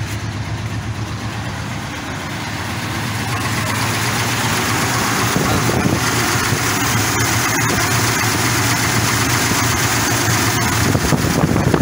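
A car engine with shaking, vibration, weak torque and occasional stalling idles steadily with a low, continuous rumble and no other sounds, holding an even level throughout.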